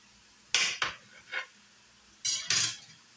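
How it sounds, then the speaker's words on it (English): Knife cutting through food on a board for a turkey taco meal, a few sharp close strokes in two short bursts separated by a quiet pause. "I slice it."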